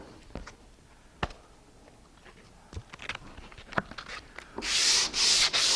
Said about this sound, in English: and block sanding something